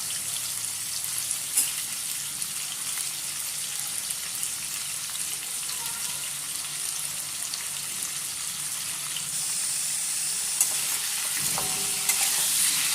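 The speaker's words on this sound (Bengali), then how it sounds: "গ্যাসের ফ্লেমটা আস্তে রেখে 5 থেকে 7 মিনিটের মতো চিকেনগুলো ভেজে নিতে হবে।" Chicken pieces for a Madras curry fry in a pan over a low flame, giving a steady, close hiss of fine crackling that holds level for a long stretch and gets slightly louder toward the end, with a couple of faint clinks and no talking.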